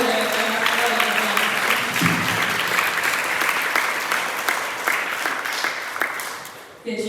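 Audience applause at a Sardinian congress event, a dense wash of many hands clapping loudly that gradually thins and fades toward the end, with a voice briefly audible underneath.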